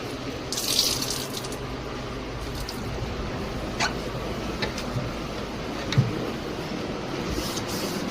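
Fridge shelves and wire racks washed outdoors under running water: a steady, fairly loud rush and splash with a few faint knocks, continuous and unbroken.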